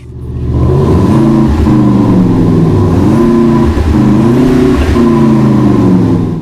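A Hyundai LF Sonata's variable full exhaust with an active sound system drones loudly and close, its engine note rising and falling in smooth revving sweeps with a synthetic, buzzy tone.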